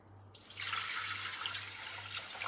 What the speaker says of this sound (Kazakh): Чашаға су құямыз.